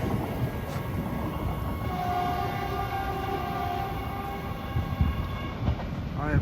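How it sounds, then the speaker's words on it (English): A Caltrain passes through Redwood City station with a steady, loud rolling rumble and wheel clatter, a sustained horn-like tone in the middle, heard close and alone. "look at that train off to Tavian."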